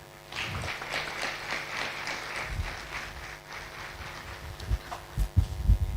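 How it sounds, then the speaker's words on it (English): Audience applause at the final of a Ghana universities debate championship, a steady wash of clapping that swells and fades over several seconds, with a few louder bumps toward the end. "Please give him a round of applause again."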